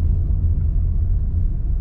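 A Honda Accord Cielo 1800 rolling over a speed bump, heard as a steady low road rumble and engine drone from inside the cabin, with no distinct thump standing out.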